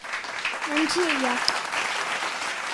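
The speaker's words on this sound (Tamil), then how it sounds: "முதல்ல நம்ம வழக்கம் போல் ஒரு கைத்தட்டு கொடுத்துடலாம்" An audience at a Tamil literary talk breaks into dense, steady applause that fills the room, while a voice is briefly heard over it.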